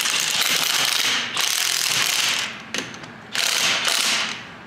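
Impact-style ratchet bursts tightening wheel studs on a BMW as a tire goes back on, three loud runs of whirring clicks separated by short pauses, close up with no talking.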